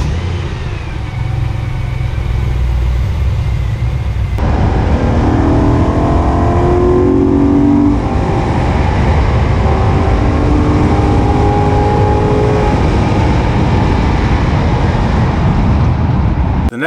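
A BMW E92 M3 drives and accelerates, its engine loud and close throughout with rising revs and strong road and wind roar, heard from onboard with no talking.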